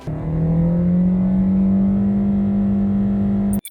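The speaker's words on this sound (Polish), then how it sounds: "Dołóżmy do tego jeszcze wrażenia akustyczne z przyspieszania porównywalne do skutera." A car with a CVT gearbox accelerates, its engine holding a steady droning pitch that rises slightly and stays loud and even for several seconds, scooter-like, before cutting off abruptly near the end.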